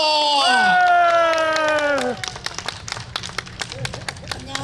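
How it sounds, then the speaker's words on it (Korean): At a spring canola flower festival, an audience welcomes a gayageum byeongchang performer: a raised, drawn-out voice rings out first, then scattered, individual hand claps follow, sparse and uneven. "큰 함성과 박수로 환영해 주시면 고맙겠습니다"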